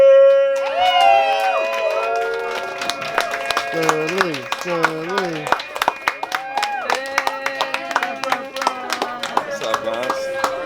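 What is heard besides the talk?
crowd cheering and applause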